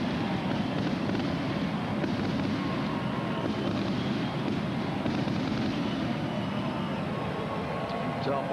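Fireworks at a baseball stadium after a home run, a steady rumbling crackle of bursts blended with crowd roar, continuous and fairly loud throughout.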